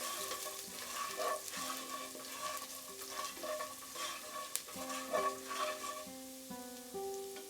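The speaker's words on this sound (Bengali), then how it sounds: "রসুন কুচিটাকে আমি 30 সেকেন্ড মতো একটু ফ্রাই করে নেব" A tablespoon of chopped garlic fries over lowered heat in a pan, a soft continuous sizzle with faint crackles, while quiet background music plays beneath it.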